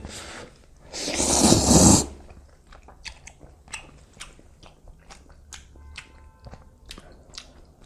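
Someone eats black bean noodles, first a loud slurp, then a run of close, wet chewing and smacking sounds with light breaths, no talking.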